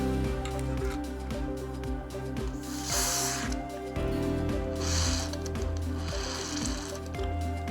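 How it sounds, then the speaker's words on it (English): Corrosion X spray is blown into a Penn Wrath 5000 spinning reel during servicing, giving a few short hissing bursts over a steady low background hum, no talk. "One more bout of spraying it with Corrosion X."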